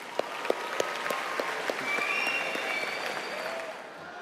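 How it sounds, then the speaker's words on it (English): Convention delegates at a state FFA conference break into a round of applause, with sharp individual claps at first that swell into sustained, dense clapping from a large crowd, fading slightly at the end. "Please give yourselves a huge round of applause."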